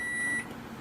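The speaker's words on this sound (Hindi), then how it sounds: "तो आप बीप की आवाज़ सुन सकते हैं" A microwave oven under repair for a dead, no-supply fault gives a single steady electronic beep during a bench test, lasting under half a second before fading into a low hum.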